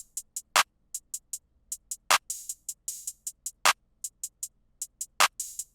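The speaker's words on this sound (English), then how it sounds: "Then we are going to add this open hat." Bright open hi-hat hits ring out among crisp ticking hats, with a few louder broadband hits at a steady tempo, no voices.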